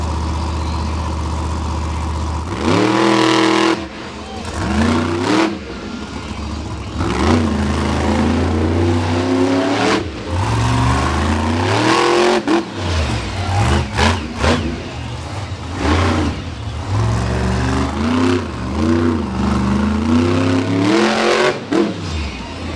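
Monster trucks race at a Renegade Monster Truck Tour show in Gaithersburg, Maryland, their big engines roaring loudly and continuously, rising and falling in repeated revs and surges throughout.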